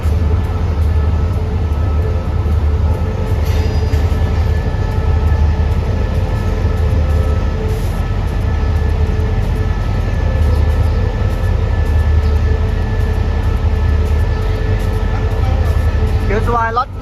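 Train passing in Bangkok on the State Railway of Thailand, a steady loud rumble and rolling clatter of railcars running continuously for the whole stretch, with a faint voice underneath.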